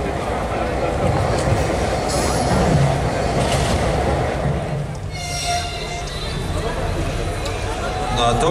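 A Russian-built diesel-electric locomotive with a two-stroke diesel engine, type 14D40, rumbles loud and close with a steady low drone and rail noise, a brief horn-like tone partway through, while someone talks over it.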